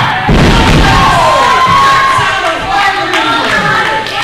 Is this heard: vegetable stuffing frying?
no